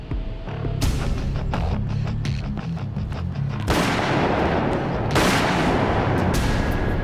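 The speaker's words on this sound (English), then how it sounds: "He is shot twice at close range and dies almost instantly." Close-range gunfire on a city street at night, loud sharp reports rising out of a dense, continuous rumble of shots and booms that keep surging through the whole stretch.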